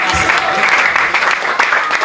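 A church congregation breaks into loud, sustained cheering and clapping for God, a dense crowd roar filling the whole moment with scattered voices rising above it.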